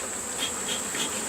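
Honey bees inside an observation beehive give off a continuous, dense buzzing hum, even and fairly soft, with no voices over it.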